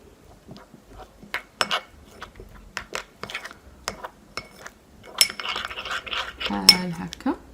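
A spoon clinks and scrapes against a bowl while milk is stirred into an oat face mask mixture for dry skin, with irregular close taps that grow busier and louder toward the end.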